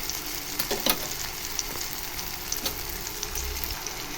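Tomatoes fry and sizzle in a pan for tomato chutney, a steady broadband crackle with a few sharp clicks and scrapes as tongs turn them; close and continuous, no voices.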